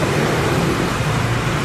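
Steady rain pours down during a traffic jam, a loud, constant wash of noise blended with road traffic that never lets up.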